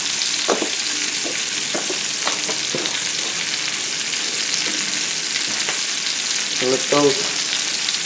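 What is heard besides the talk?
cremini mushrooms sautéing in a pan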